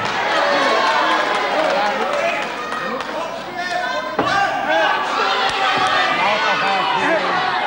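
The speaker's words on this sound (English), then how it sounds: "the Civic Hall Guildford crowd really starting to warm up to us" A large wrestling crowd at Civic Hall Guildford cheers and shouts continuously, loud and dense, with a slam on the ring and chatter mixed in throughout.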